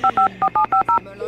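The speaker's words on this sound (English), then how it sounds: "She just dialed on the phone, but the buttons." Six short two-tone phone keypad beeps from The Sims video game, in an even rapid sequence, each crisp and close, followed by a faint tonal hum.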